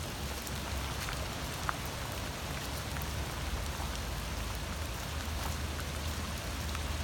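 Water trickles and runs beneath a walkway in a small park creek fed by parking-lot runoff, a steady, soft, even wash with no talk over it.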